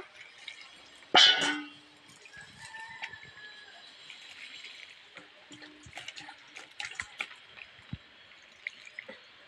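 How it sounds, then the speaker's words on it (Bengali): Eggplant being washed in water, with one sharp splash early on, then quieter scattered drips and trickles close by. "বেগুনটাকে আমি জলে এখন ধুয়ে নেব"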